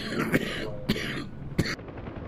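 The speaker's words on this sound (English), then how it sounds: "Do apologise about the coughing." Three sharp coughs from a nearby person, spaced roughly half a second apart, break through a steady background hum during a DCS World flight simulator session.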